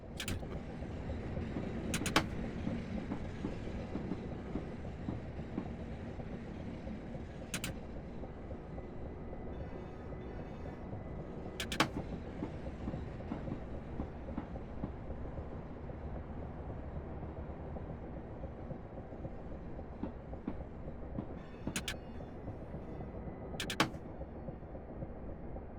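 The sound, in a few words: passing trains in a video game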